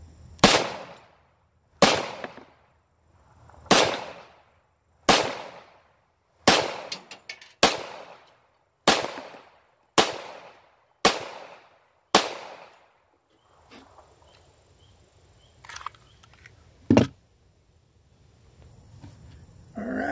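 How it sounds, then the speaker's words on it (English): Nine loud gunshots are fired one after another at a steady pace into a bullet trap box, each sharp crack ringing out briefly, followed by quieter handling noises and one more thump. "after them 9 shots"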